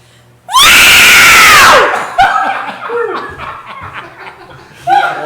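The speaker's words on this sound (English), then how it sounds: "I want to hear the scream." A woman lets out a loud, sustained high-pitched scream lasting over a second, followed by scattered laughter and chatter from several people nearby in a recording studio.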